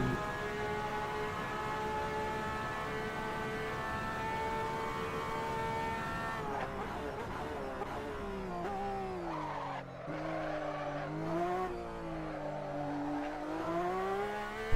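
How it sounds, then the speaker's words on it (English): A loud car engine with whining, rising and falling tones, revving and passing by outside a house, sustained throughout with pitch swoops. "I think a really loud car just went by my house outside."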